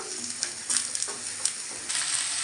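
Potatoes fry in a pan with pumpkin pieces being added. A close, steady sizzle is broken by crackling pops and stirring scrapes throughout.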